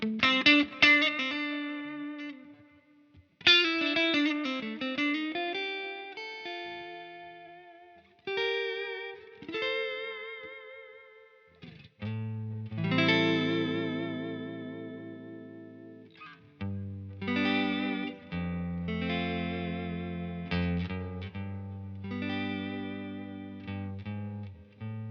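Electric guitar played through a Bogner Uber-Ultra amp on its clean channel 1 with a bridge pickup, shimmering with chorus-like modulation; chords and melodic lines ring out in phrases with brief gaps, moderately loud, with no voice over it.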